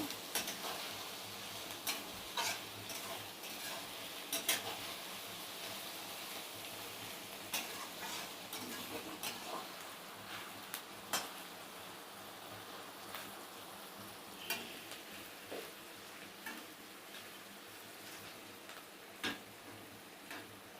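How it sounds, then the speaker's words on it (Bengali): Chopped onion and green chillies frying in a pan, a soft continuous sizzle broken by frequent sharp ticks and scrapes of a spatula, close but low in level, with no voices. "পেঁয়াজটাকে ভেজে নেব।"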